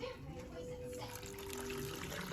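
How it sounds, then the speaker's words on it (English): Water runs steadily into a cooking pot of carne en su jugo with bouillon, a continuous quiet pouring splash under faint background noise. "I'm also gonna add a little bit of water"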